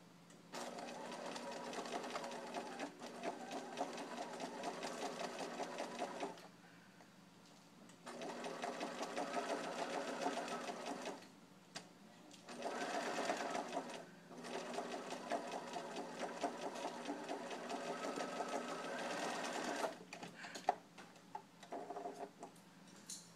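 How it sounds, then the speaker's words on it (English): A sewing machine runs close by, stitching a half-inch side seam on a yoke skirt with back stitching, whirring in several long bursts separated by short pauses, with no talk between runs. "I'm just going to sew at a 1/2 inch right along this side seam here"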